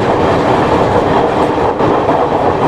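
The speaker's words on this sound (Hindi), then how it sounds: "पैसेंजर ट्रेन है" Passenger train passing on rails near Jind Junction in Haryana, a loud continuous rumbling roar with steady wheel clatter filling the whole clip, no voices.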